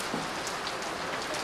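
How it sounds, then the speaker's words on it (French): Heavy rain pours steadily on the central Kenyan highlands during a short rainy season, a dense, continuous hiss of drops striking surfaces close by, with no voices. "Quand enfin il pleut sur le massif central du Kenya, comme ici pendant les 2 courtes saisons des pluies"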